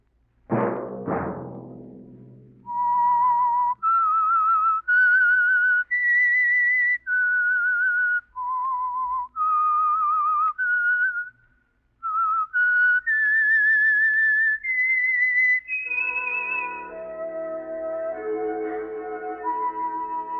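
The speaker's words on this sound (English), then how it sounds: "Let that whistle be your signal" The Whistler radio show's melodic whistled theme tune, clear and close, phrase after phrase of sustained notes, ending in a bright orchestral flourish after two opening thumps.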